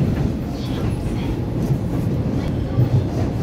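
An EMU501 and EMU509 electric multiple unit commuter train departs Su'ao on the Yilan Line, giving off a steady, loud low rumble with faint rail clatter and no pauses.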